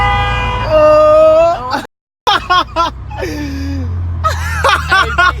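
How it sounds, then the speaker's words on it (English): A car horn blares in a long sustained note in traffic behind a stopped car during a roadside prank, then cuts off as laughter and excited chatter take over, with more brief honks and engine noise beneath. "Hey, people is actually honking,"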